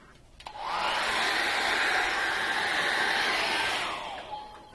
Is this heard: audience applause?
no